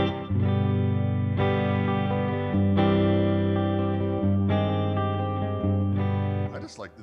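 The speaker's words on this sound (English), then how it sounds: "this guitar sounds great with distortion too" An electric guitar plays through distortion in sustained, overdriven chords, changing every second or so, loud and close, before trailing off at the end.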